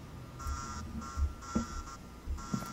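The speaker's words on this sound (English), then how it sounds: "Oh, it's a pile of alarm clocks all set to 11:02." A pile of alarm clocks rings in a video game, sounding as repeated electronic buzzing beeps in short bursts with soft thuds between them, steady and moderately loud.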